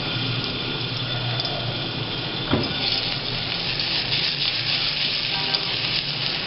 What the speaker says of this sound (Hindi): अब इसमें मैं गार्लिक हाफ टी स्पून इसको सौते करूँगा।